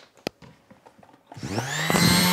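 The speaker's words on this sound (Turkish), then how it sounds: "bu üçgen zımparalama makinesinin nasıl çalıştığını göstermeden önce bir sesinden de size e, duyurmak istiyorum" Soft clicks and handling noises give way to a Vonroc multi-function triangle detail sander starting up, its high whine rising to a steady, buzzing drone.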